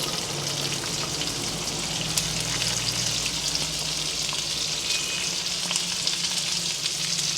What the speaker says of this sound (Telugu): ఇవి దోరగా వేయించుకోవాలి, మంచిగా కలర్ వచ్చే వరకు.